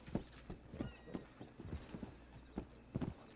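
Horse hooves clip-clop at a steady walking pace in a Western roleplay game set in 1903, close and fairly quiet, with a faint high whistle-like tone running through the background and no talking.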